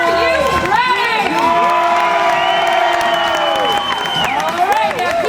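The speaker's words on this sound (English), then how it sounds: "we are going to have to cheer just a little bit louder than that because they can't hear you" Crowd at a SeaWorld San Diego dolphin show cheering and shouting, with children's high voices and whoops rising and falling over a few seconds, loud and close.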